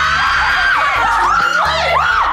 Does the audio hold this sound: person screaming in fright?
yes